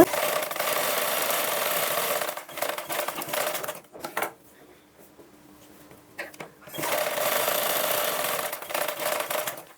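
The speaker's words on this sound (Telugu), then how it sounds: "ఇప్పుడు ఫస్ట్ మనం వెనకాల భాగం అయితే కుడుతున్నాను" Domestic sewing machine stitching the back piece of a blouse: steady close whirring runs, a quieter pause in the middle, then the stitching resumes, with no talk over it.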